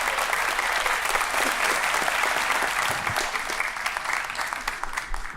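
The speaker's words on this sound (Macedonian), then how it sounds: "држете спонтан аплауз" An audience at a stand-up comedy festival in Skopje, Macedonia, claps in dense, sustained applause for about five seconds, close and full, tapering slightly at the end with a faint voice underneath.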